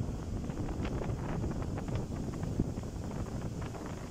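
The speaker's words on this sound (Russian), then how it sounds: "Сильный-сильный ветер." Strong gusting wind during a storm on the Baltic Sea shore at Palanga, Lithuania, buffets the microphone in a constant loud rush, with faint thumps and rustles underneath.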